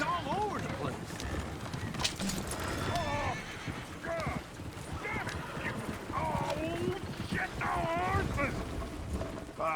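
Horses in a western town in the Red Dead Redemption 2 video game, with hooves clopping and a horse neighing close by while several people talk over them throughout.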